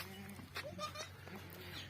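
A goat on a farm bleats several times in short wavering calls, faint and close, with quiet background noise between them and no clear talk over the calls.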